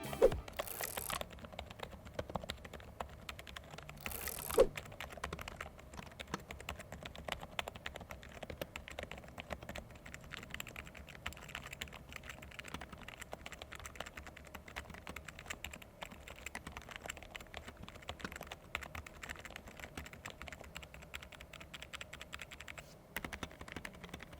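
Soft, muted keystrokes on a quiet rubber dome keyboard, the DEKAY R98, patter steadily for a long stretch, quiet and close, with a couple of louder knocks near the start.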